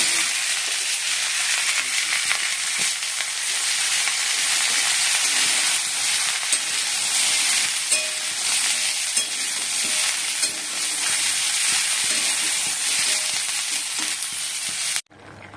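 Fenugreek and mustard seeds frying in hot oil for Bengali shukto, a steady, dense sizzle with stirring scrapes running continuously up close, cutting off abruptly near the end.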